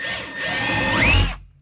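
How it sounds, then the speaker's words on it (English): A power drill bores corner holes through a Ford F-550 truck camper wall for a Fogatti RV furnace cutout, a steady close whine lasting over a second with a rising pitch sweep near the end before cutting off. "We'll go ahead and drill some holes at our corners."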